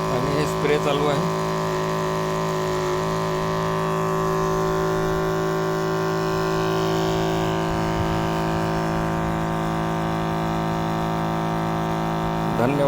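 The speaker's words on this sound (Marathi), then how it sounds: "आणि हे स्प्रे चालू आहे." Battery-powered suitcase-style crop spray pump running in a farm field, a steady electric motor drone with constant tonal hum, close and continuous, with brief voices at the start and end.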